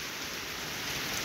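Heavy rain falls in Dhaka as a dense, even hiss of steady downpour, constant and enveloping with no talk.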